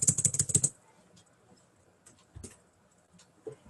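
Quick burst of computer keyboard typing up front, several rapid key clicks close to the mic, then a few scattered isolated taps during quiet stretches.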